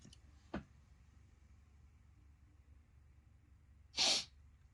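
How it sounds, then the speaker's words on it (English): A single sharp sneeze bursts out near the end, preceded by a short sniff or breath, in an otherwise quiet room. "Sneeze, hold on."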